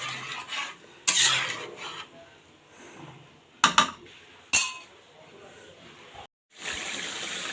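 A spoon scrapes and clinks against a pan of Bengali egg curry in a few sharp bursts separated by quieter stretches of low sizzling, fairly close.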